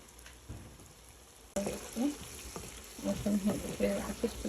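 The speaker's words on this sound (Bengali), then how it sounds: "মশলাটা একটু ভাজা ভাজা হয়ে গেছে" Spice paste for a spicy dried loitta fish dish sizzles in a pan on a lowered flame, quiet at first, then a louder burst of frying with scraping stirs and a faint voice in the background.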